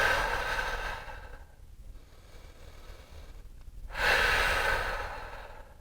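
Deep breaths while holding a yoga plank, a long audible exhale that fades, a quiet pause, then a strong inhale or sharp breath, close and clear, with no talking.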